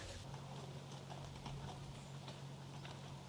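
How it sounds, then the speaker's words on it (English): A horse's hooves clip-clop at a steady walking rhythm as it tows a narrowboat along the towpath, the hoofbeats soft and somewhat distant over a low steady background hum. "Horse pulling the narrowboat."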